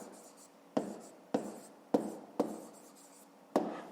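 Pen or pencil writing out a maths solution in a notebook, with about five sharp taps or strokes spaced roughly half a second apart over a faint steady background.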